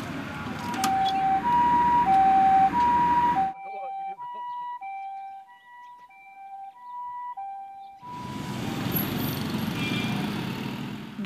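An ambulance siren wails in a steady up-and-down pattern, heard loud under outdoor traffic noise, then alone and clear, then fading back into road noise.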